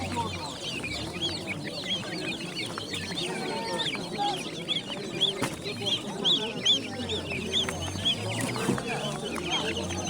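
Black chicks peep in a rapid, high-pitched chatter at a bird market in Margilan, a steady stream of small calls mixed with background voices and market bustle.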